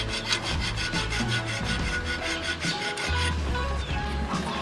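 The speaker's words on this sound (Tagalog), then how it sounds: "Try natin itong kikil." A hand file rasps against a metal brake pedal or fender part of a Yamaha RXT135 motorcycle under restoration, making rapid, regular back-and-forth strokes, close and continuous, with a short pause near the end.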